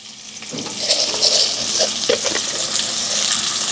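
Whole spices hit hot oil for a tempering (phoron) in a home kitchen, making a steady close sizzle and crackle with a few light pops and clinks.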